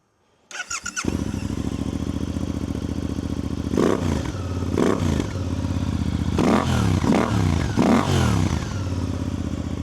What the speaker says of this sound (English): I should also do a cold start to kind of let you hear the exhaust.